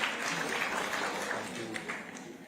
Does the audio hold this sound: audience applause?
yes